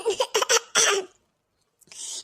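A close burst of several quick, harsh coughs, followed by silence and then a breathy exhale.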